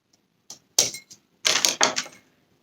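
Scissors cut craft material for a gray and orange Valentine decoration, a few sharp, close snips and crisp crunches in quick bursts with short silent gaps, and no voices.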